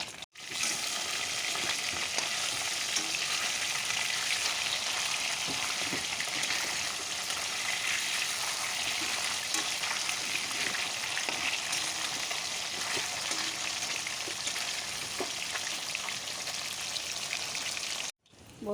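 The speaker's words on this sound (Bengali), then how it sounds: "বন্ধুরা লাল লাল করে মাছটা ভেজে নিয়েছি" Fish frying in a pan until browned red, giving a loud, steady, crackling sizzle that holds unbroken for the whole stretch with no voices over it.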